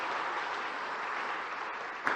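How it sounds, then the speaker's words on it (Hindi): Crowd clapping at a live event with Chief Minister Shivraj Singh in Bhopal, a faint, even patter of applause heard from a distance, ending in a brief louder knock. "जरा ताली बजाए तो जोर से बजाएं"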